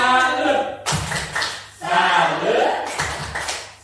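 A class performs the "tepuk salut" clapping routine, with sharp clustered claps in a rhythmic pattern among voices chanting along, close and fairly loud.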